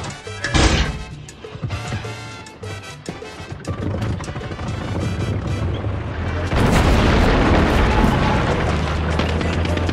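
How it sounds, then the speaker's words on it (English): A tank blasting open gates in Far Cry 6: a sharp, booming impact near the start, followed by rumbling, crashing explosion noise that swells into a loud, sustained roar in the second half. "Fix up Carlito and blast open the gates"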